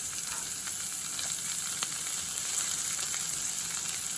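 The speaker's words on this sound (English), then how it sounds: "The ghee has melted, so I'm adding the onions and the chilies." Onions and chilies sizzle in melted ghee for South Indian sambar, a steady soft frying hiss with faint crackles and light stirring clicks throughout, no voices.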